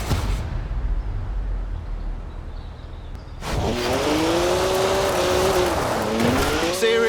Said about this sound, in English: that's my BMW 1M